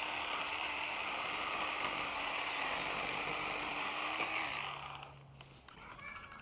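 A chainsaw cutting branches from a backyard tree, its engine buzzing loud and steady before dropping off near the end into quieter idling and outdoor background noise.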